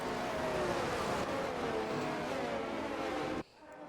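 Race cars in an F1 video game at Imola warming their tyres on track, a continuous loud engine drone with slowly falling pitch that cuts off abruptly near the end.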